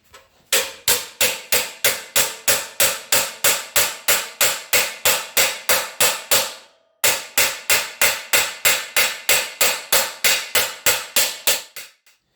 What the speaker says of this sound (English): I'm going to hammer this down here, flip it around, hammer it in again just to tighten up this little edge